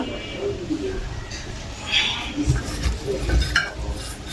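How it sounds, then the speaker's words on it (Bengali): Food being mixed and kneaded by hand, soft squelching and rustling at close range, with a few faint clinks of a dish and some talking over it. "এটি একটু মেখে নিচ্ছি"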